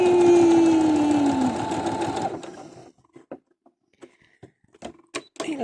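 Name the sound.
new sewing machine stitching decorative stitches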